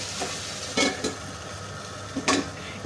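Colocasia frying in a pan is stirred now and then, a low steady sizzle broken by a few short scraping bursts of the spoon against the pan.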